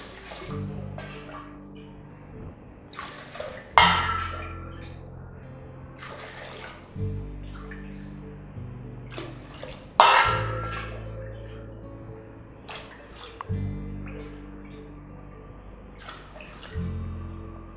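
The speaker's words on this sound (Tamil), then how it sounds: "இப்போ தண்ணி ஊற்றிடலாம் நம்ம." Water is poured onto washed kavuni black rice for soaking, splashing and trickling in several pours with brief pauses between them, close and fairly loud.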